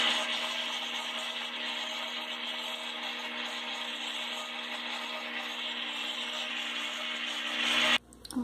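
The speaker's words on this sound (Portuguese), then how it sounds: "E eu vou ligar de novo o liquidificador e acrescentando aos poucos," A kitchen blender runs steadily with a loud, even whir while passion fruit juice is gradually added for mousse, then the motor cuts off abruptly near the end.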